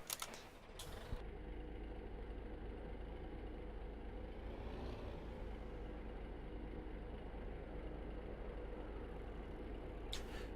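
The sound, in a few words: tractor engine in the video game Farming Simulator 15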